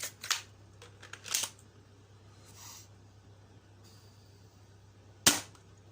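A Worker Cheetah 2.0 foam blaster firing, with sharp close pops: two near the start and one more after a long pause, over a low steady hum.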